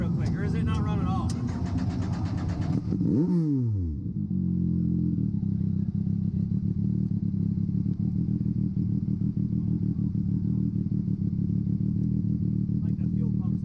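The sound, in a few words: race car engine starting and running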